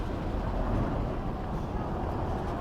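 Steady low rumble of heavy trucks on a road, a broad continuous roar of engines and tires passing close by, no voices.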